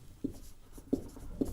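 Marker or chalk scratches on a board during a Hindi-language chemistry class lecture: three short, quiet strokes spaced evenly apart, close by, with no talking.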